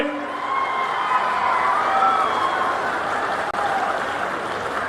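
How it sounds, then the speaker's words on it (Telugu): A crowd at a political rally in Tirupati claps loudly and continuously, in a steady wash of applause mixed with scattered cheers and whistles. Near the end there is one brief dropout. "అవును అంటే గట్టిగా చప్పట్లు కూడా చెప్పండి"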